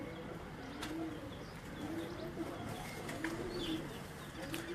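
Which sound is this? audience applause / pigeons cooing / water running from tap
pigeons cooing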